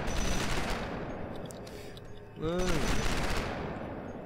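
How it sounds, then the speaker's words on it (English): Gunfire in the video game Starforge, a rapid burst of automatic shots over steady game noise, a brief dip in level, then a rising tonal whoosh and more firing. "you can destroy your own blocks too by shooting them"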